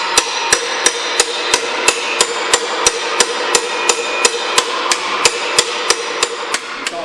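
Sharp, evenly spaced metallic hammer strikes ring out about twice per second, a steady close-up rhythm of blows on car body sheet metal during restoration.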